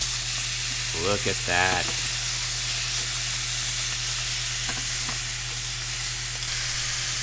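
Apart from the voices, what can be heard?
duck breasts searing in a pan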